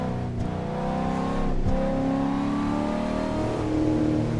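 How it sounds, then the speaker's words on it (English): A car engine revs steadily while driving, a loud close mid-pitched drone that rises and falls in pitch with the throttle, with no speech over it. "this car sounds amazing, Jojo."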